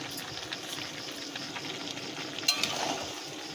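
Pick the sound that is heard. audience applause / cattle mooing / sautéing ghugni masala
sautéing ghugni masala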